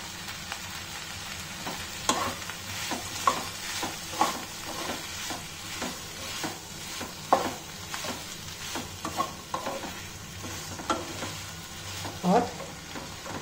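Soya chunks and capsicum stir-fry in a pan with a steady sizzle, while a spatula scrapes and taps the pan at irregular moments close by.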